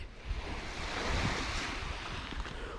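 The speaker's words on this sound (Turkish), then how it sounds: "Evet kumsala geldik." Waves wash onto a sandy beach at Dilek Peninsula National Park in a steady, broad surf rush, with wind buffeting the microphone and no voices.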